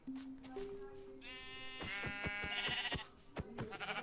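A sheep bleats in a wavering, synthetic tone over chiming game notes, with a few sharp clicks around it and no voices.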